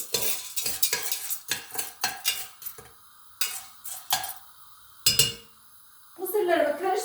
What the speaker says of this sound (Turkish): tuzu her tarafa karışsın diye mısırlarımı bu şekilde böyle karıştırıyorum